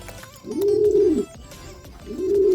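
A brown racing pigeon, just back from a three-lap derby race, coos close by: two low, throaty coos with a short pause between, over faint background noise.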